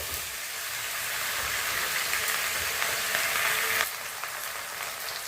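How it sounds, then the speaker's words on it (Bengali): Slit green chillies frying in hot oil in a pan while being gently stirred, a loud, dense, continuous sizzle close by that dips slightly near the end, no voices. "হালকা হাতে একটু নেড়ে নেবো।"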